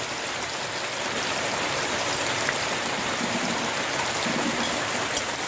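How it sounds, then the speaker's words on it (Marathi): Heavy, steady rainfall pours down outdoors near a kitchen where fish curry is being cooked, forming a dense, continuous hiss with no breaks over the whole stretch and no voice on top. "पावसाचा जोर वाढतच चालला आहे"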